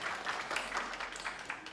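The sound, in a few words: applause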